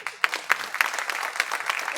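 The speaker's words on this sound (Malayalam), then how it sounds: "ഇനി കൈയടിക്കാം." Audience clapping at a film title launch event, a steady ripple of hand claps with a few sharper bursts, close and moderately loud, carrying on without pause.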